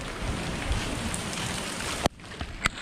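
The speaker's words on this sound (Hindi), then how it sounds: "ये देखो बारिश" Monsoon rain pours steadily in a dense, even hiss, close and fairly loud, with a couple of sharp knocks near the end as drops strike a surface.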